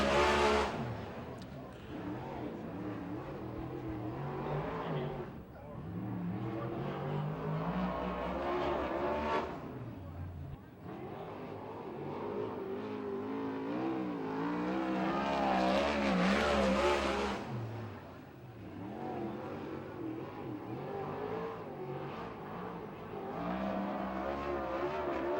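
A USAC/CRA sprint car lapping the dirt oval at Tulare, California, its engine roaring steadily with rising and falling pitch as it comes off turn 4, with a track announcer talking over it.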